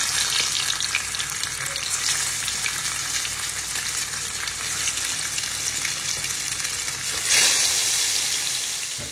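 A fish head fries in hot oil with a loud, dense, steady sizzle up close, swelling into a brief louder hiss near the end.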